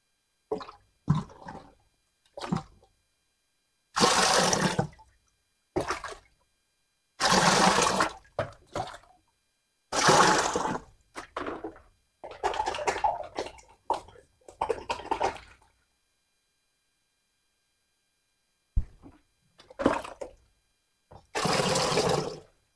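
Water gushes in repeated bursts during an aquarium water change, each pour or drain lasting about a second and separated by pauses, with a longer quiet gap near the end.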